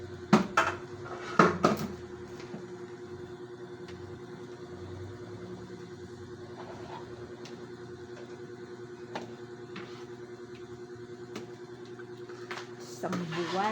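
Dishes and plates are handled in a home, with sharp clinks and clatters at the start and end over a steady engine-like hum, and faint room sounds in between.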